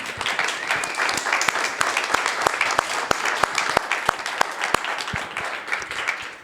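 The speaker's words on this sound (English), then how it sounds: "now we'd like you to applaud for them" Audience applause at a dental assisting summit, a dense crowd clapping steadily for several seconds with sharp individual claps standing out near the listener.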